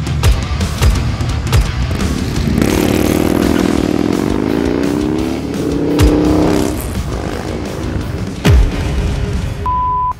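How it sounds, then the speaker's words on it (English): A Moonshine Horsepower Harley-Davidson Low Rider S Softail with a 135 cubic inch M8 double-runner engine revs loudly up close, its deep exhaust rumble swelling through several throttle blips and falling back. "Low Rider S from Moonshine Harley-Davidson"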